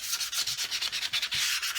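Quick back-and-forth strokes of 320 grit sandpaper rubbing shock tower braces, a steady scratchy rhythm with short pauses.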